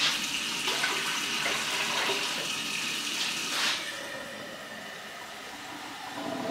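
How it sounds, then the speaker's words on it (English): Water poured into a soup pot while making tortilla soup at home, a steady broadband splashing stream lasting about four seconds before easing into a quieter trickle and settling, with no talking. "Put some water in there, kind of like 50-50 vegetable broth"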